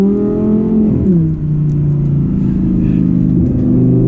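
A 2018 Audi R8 RWS with a V10 engine pulls hard under acceleration, its loud, smooth engine tone climbing and shifting pitch through a quick gear change, close up from inside the car.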